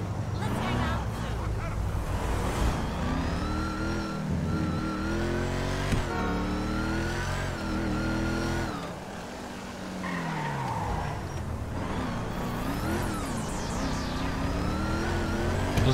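A car driving in the GTA 5 video game, with a continuous revving engine, shifting pitch and tire squeals through the clip, a brief dip midway, and steady game sound throughout.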